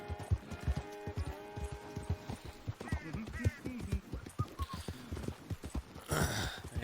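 Horse hooves clip-clop at a steady riding pace in a video game, a run of regular thumps with musical tones sounding over the first stretch and a louder whoosh of noise near the end.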